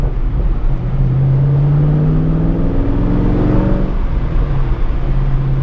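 A 700 HP Shelby GT500 engine rumbles while driving, rising in pitch as it accelerates then easing off, a loud steady roar heard from inside the car without speech.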